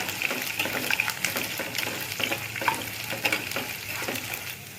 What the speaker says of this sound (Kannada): ಬೆಳ್ಳುಳ್ಳಿ ಒಂದು ಮೀಡಿಯಮ್ ಸೈಜ್ ಒಂದು ದೊಡ್ಡ ಗಡ್ಡೆ ಬಿಡಿಸಿ ಚೆಚ್ಕೊಂಡಿದ್ದೀವಿ. ಸ್ವಲ್ಪ ಫ್ರೈ ಮಾಡ್ಕೊಳ್ಳೋಣ